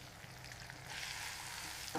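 Fried paneer tossed in soy sauce, red chilli sauce and vinegar in a pan over high flame, heard as a low, steady sizzle that grows slightly louder halfway through, with a brief clatter at the end.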